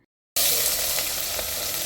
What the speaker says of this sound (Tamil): எண்ணெய் சூடானதும் 1/4 டீஸ்பூன் சோம்பு பொரிஞ்சதும் பொடியை நறுக்கின 2 வெங்காயம் போட்டுக்கோங்க